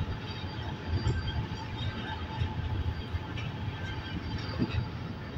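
An express train passes through Tajpur Nasarpur on the railway, its steady rumble and wheel noise rolling continuously for several seconds at moderate distance, with no talking.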